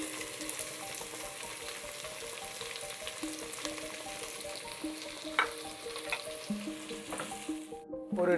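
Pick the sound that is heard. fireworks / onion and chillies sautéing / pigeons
onion and chillies sautéing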